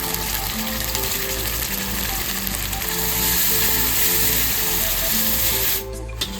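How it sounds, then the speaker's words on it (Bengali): A steady, loud sizzle of ginger garlic paste frying in a hot pan, with faint scraping as it is stirred, continuing without pause before cutting off near the end. "আদা রসুন ভালো করে কষানো হয়ে গেছে"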